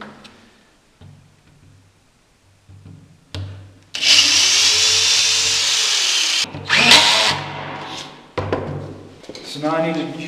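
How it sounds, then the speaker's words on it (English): A power drill whirs loudly in a couple of bursts, drilling 1/8-inch pilot holes in wood for a Murphy bed build, with short pauses, clicks and handling noises between; brief speech in the quieter gaps. "Now it doesn't say to drill pilot holes, but I'm going to do it anyway."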